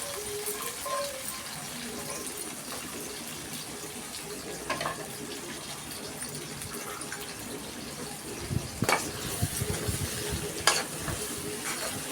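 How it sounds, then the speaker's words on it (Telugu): Onions frying in hot oil for kadai chicken masala curry, a steady sizzle with scraping stir strokes and a couple of louder clatters near the end, with no talking. "నూనె కాగిందండి ఉల్లిపాయలు వేసుకుందాం"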